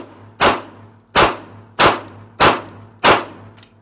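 A Glock 26 pistol fires five sharp shots at an even pace about two thirds of a second apart, each a loud close crack with a short decaying tail over a low background hum.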